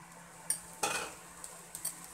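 Potatoes fry in hot oil and get stirred for a chickpea curry, a soft steady sizzle with a few sharp utensil scrapes and clinks against the pan.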